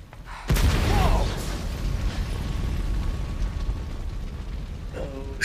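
A car blows up in the video game Resident Evil 2, a sudden loud blast followed by a long rumbling roar and crackling debris that slowly fades, with a voice briefly heard near the end.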